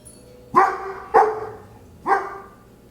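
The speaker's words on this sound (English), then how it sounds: "Notice Joseph starts barking as expected" A dog indoors barks three times after a doorbell rings, each bark loud and close with evenly spaced gaps and a low background hum.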